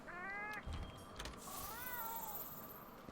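A pet cat named Conti meows twice up close, a rising-falling harmonic cry followed by a softer, drawn-out second meow, with a brief mechanical clunk in between.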